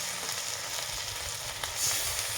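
Kundri (ivy gourd) with poppy seed paste sizzles steadily in a pan, a soft continuous frying hiss broken by faint scrapes of stirring, close and alone.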